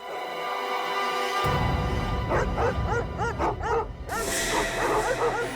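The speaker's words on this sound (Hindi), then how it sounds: "कुत्तों के भौंकने की आवाज पीछे की तरफ से आ रही है" Several dogs bark and yip in rapid, overlapping bursts, loud and close, over a steady background drone.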